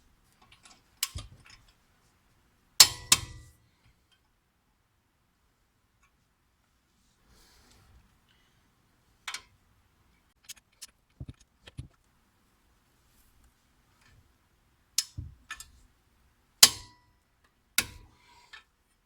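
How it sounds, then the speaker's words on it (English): A torque wrench tightens the two front brake caliper bracket bolts on a BMW. A few sharp, quiet clicks and ticks come close by, in short scattered bursts with long silent gaps between them. "Now you want to go ahead and tighten up these two caliper bracket bolts."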